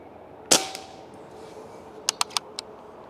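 A Crosman 3622 PCP air rifle fires one sharp, loud crack at close range, followed about 1.5 seconds later by a quick cluster of faint clicks and metallic clacks.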